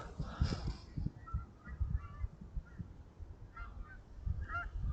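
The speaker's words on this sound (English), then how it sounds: "geese are back, spring early" Geese back in early spring, honking in a series of nasal calls at moderate distance over soft outdoor background, strongest at the start and again toward the end.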